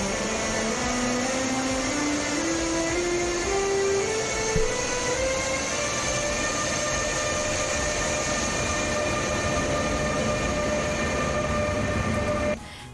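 An electric train accelerating, its motor whine rising steadily in pitch over a constant rumble of wheels on track, moderately loud and unbroken until an abrupt cut at the end.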